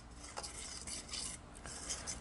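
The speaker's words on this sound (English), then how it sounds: "Gonna go ahead and give that just a little stir around." Oil and salt being stirred into a bread mix in a bowl, a faint continuous scraping and swishing with a few soft clinks of the utensil, no voice.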